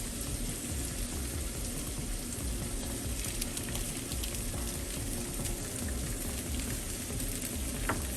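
An egg sizzles as it fries on a hot grill while burgers are being cooked, a steady close crackle and hiss running without a break and with no talking.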